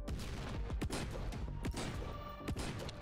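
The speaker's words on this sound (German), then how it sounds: "Jetzt können wir eine fette Granate werfen" Repeated heavy thumping shots from a grenade launcher in the horde survival shooter NIMRODS, several loud booming impacts in quick succession amid dense in-game noise, with no talking.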